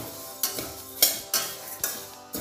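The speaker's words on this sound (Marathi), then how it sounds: "आपली कढई तापलेली आहे आपण बडीशेप सुरुवातीला भाजून घेऊया" Fennel seeds are stirred in a hot, dry pan, with several rhythmic scraping strokes and a light rattling hiss between them.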